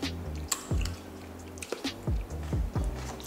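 Close-up chewing and biting on a Ghanaian snack, with several soft squishy bites and mouth sounds spread across a few seconds, no talking.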